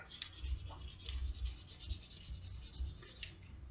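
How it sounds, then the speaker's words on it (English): Burnishing tool rubbing along the edge of a leather holster by hand, a soft, steady rasping friction in repeated close strokes, low and quiet with no voices. "Just me and my burnishing tool."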